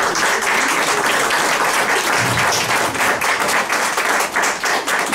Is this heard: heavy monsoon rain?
no